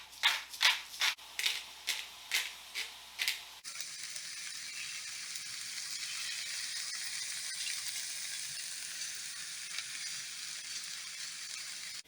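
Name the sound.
artichoke chickpea sauce sizzling in pan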